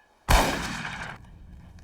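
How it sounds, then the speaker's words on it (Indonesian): A single loud gunshot blast in a film scene, sharp onset followed by a ringing decay of about a second, then quieter background ambience. "Dengan satu kali tembakan saja, Joe pun akhirnya tewas seketika."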